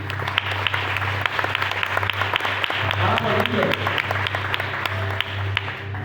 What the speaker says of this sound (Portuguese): Vamos aplaudir essa palavra, irmãos.